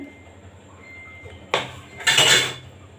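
A frying pan is set down on a stove, two metallic clanks close together, the second longer and ringing, against a quiet room.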